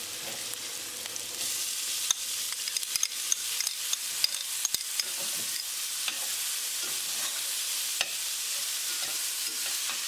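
Chopped onion sautéing in hot oil in a pan for salmon steak curry, a steady close sizzle with scraping stir strokes and occasional sharp clicks of the utensil against the pan, no talking.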